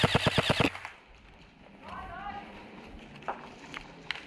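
Airsoft guns firing during a match: a rapid burst of about eight sharp, close shots in the first second, followed by quieter scattered pops and background noise.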